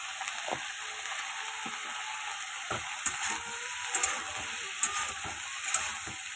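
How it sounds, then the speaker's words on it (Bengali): Cauliflower and potatoes with turmeric and salt fry in a pan with a steady, even sizzle, broken by a few soft clinks and taps of stirring. "হলুদে ফুলকপিটাকে একটু ভালো করে ভেজে নেবো"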